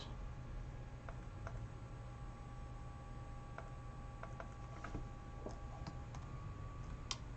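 Scattered soft clicks from a computer keyboard shortcut being pressed, faint and irregular over a quiet background hum.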